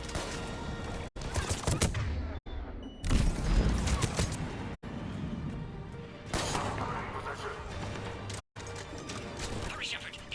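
Bursts of gunfire and explosive impacts during an attack in Mass Effect 3, loud clusters of shots broken by brief silent gaps, with in-game voices shouting over the battle.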